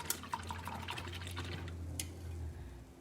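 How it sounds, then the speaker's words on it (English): Paintbrush swished and rinsed in a cup of water while acrylic painting, giving a few seconds of close, soft sloshing and dripping with small clinks against the container. "I'm going to go ahead and rinse this out."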